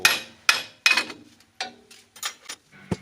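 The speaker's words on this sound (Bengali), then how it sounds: "এবার হাতুড়ি দিয়ে একটু মেরে বার করে নেব" A series of sharp metallic hammer blows on a Powertrac tractor's brake drum during brake repair, irregularly spaced, close and ringing, with no talk.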